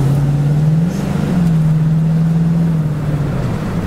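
A 1990 Mercury Grand Marquis Colony Park wagon with a 5.0 V8 accelerates from inside the cabin, a loud steady engine drone whose pitch climbs, dips as the transmission kicks down, then rises again.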